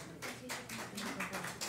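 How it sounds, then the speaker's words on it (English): Audience at a high school Knowledge Bowl quiz competition claps in short uneven bursts, a moderate patter of hands from a small crowd in a room. "Applause is welcome on both sides."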